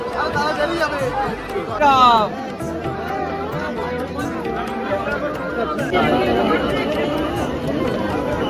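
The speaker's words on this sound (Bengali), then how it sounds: "প্রচন্ড ভিড় আছে কিন্তু সামনে" A heavy crowd fills Jhusi railway station during Mahakumbh 2025, producing a continuous dense babble of close and distant voices with people talking nearby.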